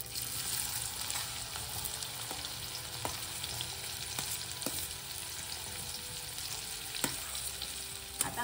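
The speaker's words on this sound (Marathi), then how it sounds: "आता कांदा लालसर होईपर्यंत आपल्याला परतून घ्यायचा आहे, मस्त फ्राय" Onion fries in oil and butter in a pan with a steady close sizzle, broken by scattered clicks and scrapes of stirring throughout.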